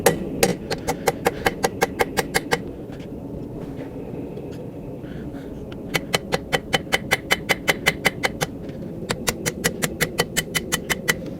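A hot railroad spike is hammered straight on an anvil while forging it into a cross, with quick bursts of ringing metallic blows, close and loud, separated by short pauses.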